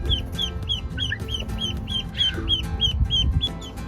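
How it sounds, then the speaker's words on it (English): Baby ducks and goslings, one just hatched, peep in a quick, regular series of high chirps close by, with a few softer calls mixed in. "Got some geese and some ducks."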